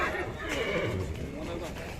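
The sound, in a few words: horse neighing at horse market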